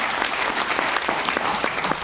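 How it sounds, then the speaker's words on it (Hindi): Loud, sustained applause from an audience at a cryptocurrency seminar, a dense wash of clapping with a few distinct sharper claps standing out, close and continuous throughout. "एक बार जोरदार तालियां क्रिप्टो करेंसीज के लिए।"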